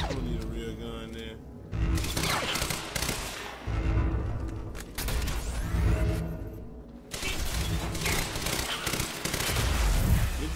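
Rapid gunfire in the video game Quantum Break, loud and sustained, with dense volleys of shots rattling in repeated bursts across the whole stretch amid general combat noise.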